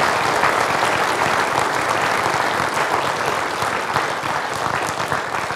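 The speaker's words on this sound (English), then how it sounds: "Just a round of applause." Sustained audience applause at a spring music festival gathering, a dense, steady wash of many hands clapping close by at even loudness throughout, with no voices above it.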